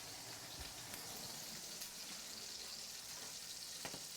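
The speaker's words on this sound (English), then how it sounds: "Sizzle, sizzle." Sizzling pork shoulder frying for a ragu gives off a steady crackling hiss throughout, with a few sharper pops standing out near the end.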